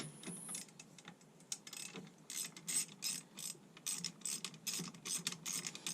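A hand ratchet backs out the small bolts holding the rear door window motor on a 1986 K20 Suburban, heard as rapid, close, quiet clicking in repeated uneven bursts.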